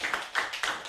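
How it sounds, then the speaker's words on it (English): A brief burst of audience applause at a digital marketing workshop, several quick rounds of hand claps rising and falling in under a second, fairly faint and with no one speaking. "I think you deserve a round of applause."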